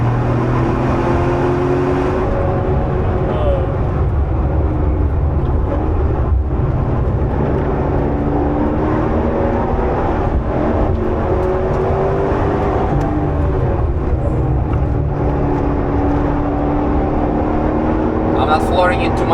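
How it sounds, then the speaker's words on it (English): Corvette C6 Z06 being driven on a race track, its engine droning and revving steadily and loudly while people talk over it inside the car. "Flooring it too much out of the corners because I'm giving oil the opportunity to settle itself"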